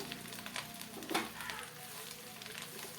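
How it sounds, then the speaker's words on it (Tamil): Curry leaves crackle and sizzle in hot sesame oil on low heat for a curry leaf pickle, a dense continuous fry with a brief louder spit, close and fairly quiet. "நல்லெண்ணெய் ஊற்றி நம்ம வச்சுருக்கிற கருகப்பிலைய போட்டுக்கலாம்"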